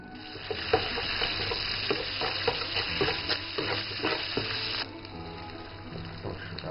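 Chili bean sauce fries in hot chili oil in a halal restaurant kitchen, a dense steady sizzle with stirring scrapes and clinks throughout, fairly close and without talk.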